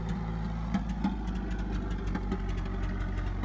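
A Toyota 22R engine with an open downpipe idles in a 1987 Toyota 4WD pickup, a rough low rumble punctuated by irregular sharp pops and crackles, close and steady throughout.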